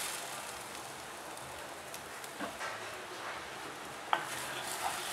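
Beaten eggs hit hot oil in a heated kadai for a scrambled egg sandwich filling, giving a steady soft sizzle with a few faint spoon scrapes and a brief clack near the end.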